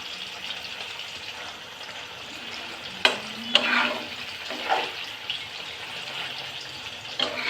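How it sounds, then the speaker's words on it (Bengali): Quiet, steady hiss of koi fish (climbing perch) frying in a pan, broken by a few sharp clinks and scrapes of a utensil. "এখানে ভাজা হচ্ছে এখানে রান্না হচ্ছে"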